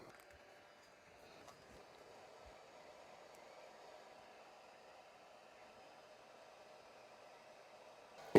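A heat gun shrinks tubing over cables during an Amiga keyboard build, giving a faint, steady airy hiss that runs throughout, with a sharp bump at the very end.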